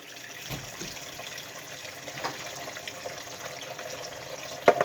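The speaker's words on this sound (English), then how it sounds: "I'm going to add water." Water pours steadily into a bowl with a soft, continuous gurgling rush, fairly close, ending with a couple of small clinks near the end.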